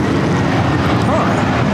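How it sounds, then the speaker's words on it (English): A JetBlue airliner takes off at LAX, its broad, steady jet roar filling the air without letup, while people talk over it. "Well, that's an interesting takeoff there. JetBlue."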